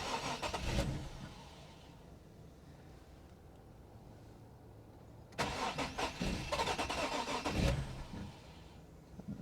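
A car engine cranks but fails to catch: two separate bursts of rapid, whirring starter chatter, the second longer, with a quiet pause between and no engine firing.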